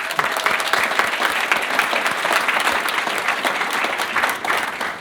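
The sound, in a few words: audience applause for Penguin Books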